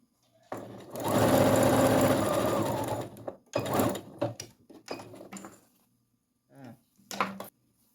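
Sewing machine stitching along a cloth diaper, with a long continuous run of stitching, then a string of short bursts for backstitching at the end, close and loud.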